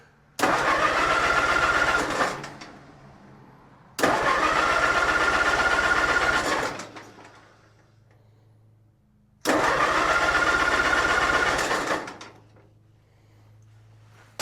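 An Allis-Chalmers C tractor engine is cranked three times in separate bursts of two to three seconds each, loud and close, with quieter low mechanical hum in the pauses.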